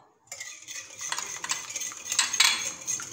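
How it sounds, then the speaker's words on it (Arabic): A utensil clinks and scrapes against a bowl while stirring pancake batter of eggs, sugar and oil, producing a continuous quiet rattling swirl with brighter taps, close and without talk. "ونواصلو التحرك باش ينسجموا"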